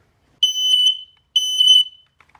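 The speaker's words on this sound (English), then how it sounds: "It's a blues smoke detector." Two loud, piercing electronic beeps from a smoke detector, each lasting about half a second, separated by a short silence.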